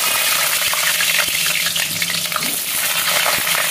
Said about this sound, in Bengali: এবার আলুগুলো ছেড়ে দেবো ভাজার জন্য।